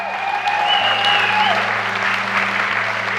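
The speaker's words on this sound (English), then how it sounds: "The performers wave warmly at the applauding audience" Steady, dense applause from an audience greeting dance performers, with a faint sustained tone running beneath the clapping.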